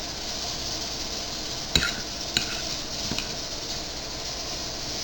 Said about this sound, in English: Stir it up nice and light. Just kind of flip and mix.